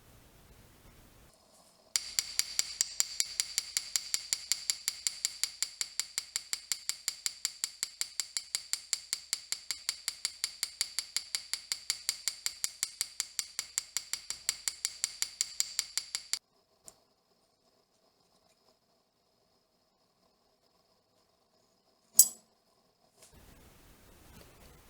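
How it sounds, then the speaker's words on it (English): An embossing hammer strikes metal earrings on an anvil, tapping rapidly and evenly in a long, fairly faint run of small metallic hits, then stopping, with one louder isolated clink a few seconds later. "Using the embossing hammer on these earrings, I created multiple facets that increase light reflection and brightness."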